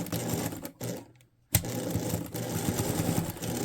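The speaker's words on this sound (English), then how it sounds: "We're gonna back stitch this as well." A sewing machine back stitching a fabric seam for a reusable popcorn bag, its fast, steady mechanical whir running close and loud, pausing briefly before starting up again with no talking.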